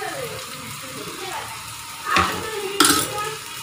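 Spice paste of ginger, cumin and dried chilli with salt and turmeric being stirred and sautéed in a pan: a low sizzle under soft talk, broken by a couple of sharp spoon scrapes against the pan near the end.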